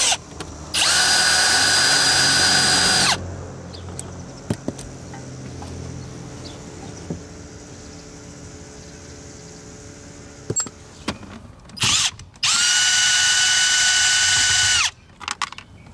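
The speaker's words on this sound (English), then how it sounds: "Also, I will be using my drill." A cordless drill driving Torx screws on Honda Accord steering wheel trim whirs in two bursts of a few seconds each, separated by quiet clicks and handling noises close by.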